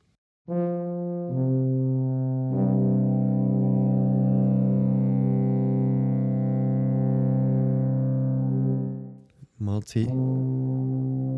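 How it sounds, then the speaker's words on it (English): A sustained low, buzzy instrumental drone holds steady for several seconds, shifts pitch near the start, then breaks off with a brief noisy burst before resuming. "Some drones here."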